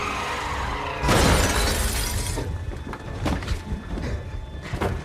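A car crashes in a movie action scene, with a sudden loud impact and shattering glass followed by scattered debris and further crunching hits.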